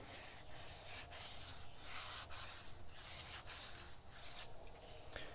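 Steady rhythmic sanding of car body filler on a BMW E30, abrasive paper rubbing back and forth in even strokes, close and fairly quiet with no voices.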